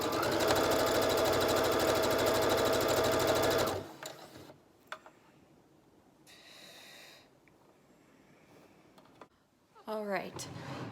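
A sewing machine stitches fabric ties for hospital masks in a steady, loud, fast mechanical whir that lasts about four seconds and then stops, followed by quiet handling sounds and a brief rustle of fabric.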